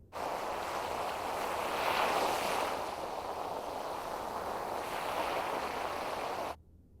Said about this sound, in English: It definitely sounds like an ocean sound